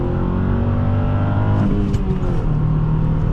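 A 2008 Nissan Altima 2.5 S sedan with a six-speed manual accelerates hard from a standstill in a 0-60 run. The engine roars loud and steady, with a gear shift near the middle before the note climbs again.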